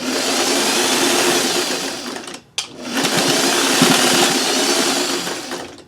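Sewing machine stitching a fabric strip, a loud, fast, steady motor whir with rapid needle chatter, briefly stopping and then starting up again close by.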